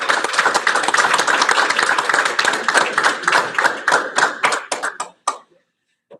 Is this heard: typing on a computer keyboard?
no